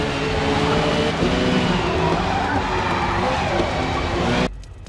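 Corvette C7R GT2 race car engine in a racing game at Watkins Glen, a loud sustained droning roar with steady harmonic whine that cuts off abruptly at the end, with a voice talking over it.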